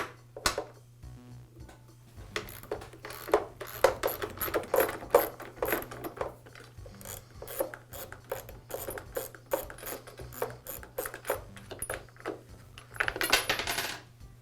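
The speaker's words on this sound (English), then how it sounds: "I'll use a socket wrench to remove them." A socket wrench removes a nut and washer from a Black and Decker electric mower handle, giving quick clicking ratchet bursts and metallic clinks that come in irregular spurts, close and fairly quiet.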